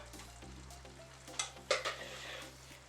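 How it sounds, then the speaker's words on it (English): A spoon stirs Cajun and fresh seasoning into chicken pelau with pigeon peas in a pot, giving a few quick scraping clinks over a soft, steady sizzle. "we're going to mix everything up"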